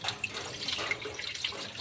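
Clams being washed under a running tap, a steady splash of water into a sink with small drips and clinks, close and moderately quiet, with no talking.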